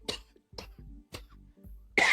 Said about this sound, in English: You see how I'm coughing right now?